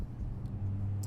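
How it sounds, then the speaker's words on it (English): A truck pulls into a Lowe's store parking lot, its low engine rumble and hum carrying from a short distance and swelling briefly toward the end over a quiet outdoor background. "you can hear a truck pulling in there right now"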